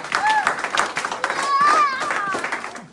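A church congregation claps and cheers during a seminar service, a brisk patter of hands under loud voices, with someone speaking over the crowd.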